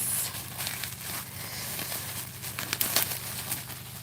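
A head of lettuce is pulled from its crinkly plastic wrapping, giving a soft, close, irregular run of crinkles, pats and crackles over a few seconds, with sharper bursts near the end and no speech.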